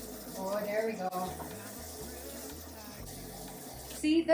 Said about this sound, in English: Now I'm gonna flush the water.